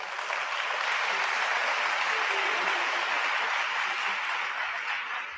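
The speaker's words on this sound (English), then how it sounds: "May you please give me a round of applause." A large audience at a high school graduation ceremony gives a sustained round of applause, dense steady clapping filling the hall for several seconds at constant loudness.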